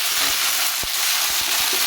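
Vegetables for a rohu fish curry with brinjal and beans sizzle and crackle in hot oil in a kadai, a loud steady hiss with a few soft stirring knocks and no talk.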